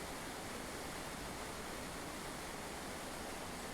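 The Korbu waterfall in Altai roars with a dense, unbroken rush of falling water, a constant broadband hiss heard close and alone without any voices.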